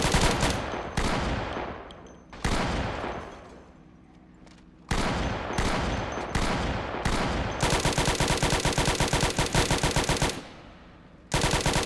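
Rapid automatic gunfire from a fast-firing gun in the game Project Zomboid, loud bursts separated by brief pauses, ending in a long sustained stream of shots and one final burst.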